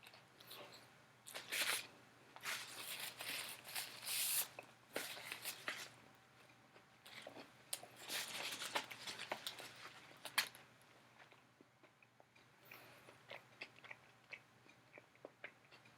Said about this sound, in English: I bit into the crunch corner, where it was kind of flattened out.